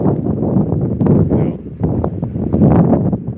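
Steady low buffeting wind rumble hitting a microphone, continuous throughout with gusty swells, loud and close.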